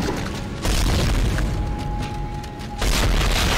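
Weapon fire against an enemy in the sci-fi horror video game Dead Space, two heavy booming blasts about two seconds apart over a dense, rumbling game background, loud and close.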